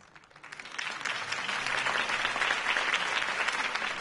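Crowd applause in the Batman Telltale video game after a speech by Harvey Dent, swelling from a quiet start into steady, dense clapping that holds for several seconds with no talk over it.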